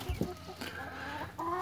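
A brooding hen that has left her eggs after five weeks of incubation clucks in low, soft, irregular bursts, close by and with no talk over it.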